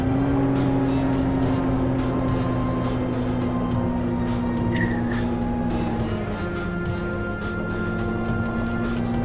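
A vehicle engine in a roleplay video game drones steadily at a constant, fairly loud level, a smooth continuous hum with no clear revving or passes and no talking over it.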